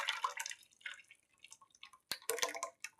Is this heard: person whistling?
no